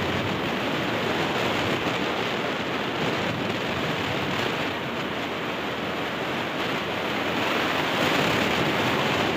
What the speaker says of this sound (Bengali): প্রচুর বাতাস, প্রচুর।